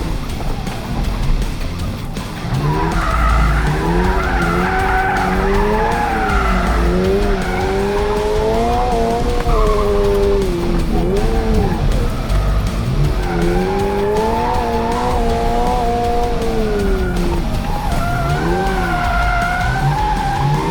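Sports car on a track, run on premium fuel, spinning out in a long skid: sustained tire squeal with wavering pitch layered over a roaring engine, loud and continuous for about twenty seconds.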